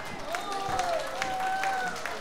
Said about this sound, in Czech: Prosím, krásný potlesk.